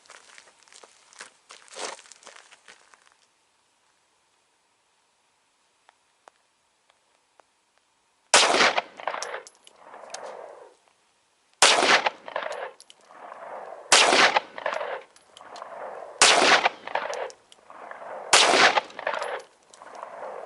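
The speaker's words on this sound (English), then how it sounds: "I'm going to put 5 rounds on the left target, then I'll reload, we'll put 5 on the right target" A 9mm Smith & Wesson M&P full-size pistol firing frangible 100-grain hollow-point rounds at an outdoor range, several sharp, loud, close shots spaced a couple of seconds apart, each with a short echoing tail, following a quiet pause.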